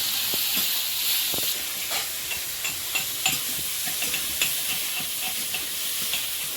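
Loud, constant sizzling of turmeric- and salt-coated prawns frying in hot oil in a wok, with scattered pops and light crackles throughout.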